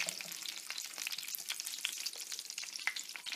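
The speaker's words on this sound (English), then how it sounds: "I want my egg to be cooked right through. So we're just flipping it over." An egg frying in a hot pan as it is flipped over, a dense, steady crackling sizzle with small pops throughout, close and continuous with no talk.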